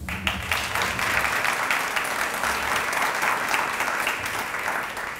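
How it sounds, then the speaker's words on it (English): A crowd at an awards ceremony breaks into dense, sustained applause, loud and even from start to finish, many hands clapping at once with no voices standing out. "give yourself a round of applause if you could"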